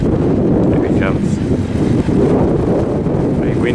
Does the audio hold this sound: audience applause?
no